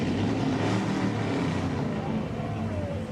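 A 1932 Ford Speedster vintage car passes during the Great Race on High Street in Morgantown, West Virginia, with a steady, loud, broadband engine roar and road rumble that holds for a few seconds.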